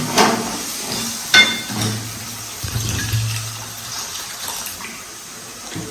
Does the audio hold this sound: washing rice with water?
yes